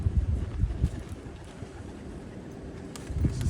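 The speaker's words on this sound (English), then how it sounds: "Fighting them strong winds." Strong, gusty wind buffets the microphone outdoors, giving a steady low roar with heavier rumbling blasts at the start and end.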